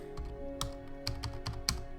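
Fingers type on a computer keyboard in a quiet room, a handful of crisp keystrokes spaced irregularly over about two seconds, close and fairly soft over a faint steady background hum.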